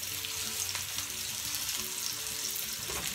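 Onion burgers fry together in a crowded pan, giving a dense, continuous, close sizzle that stays steady throughout.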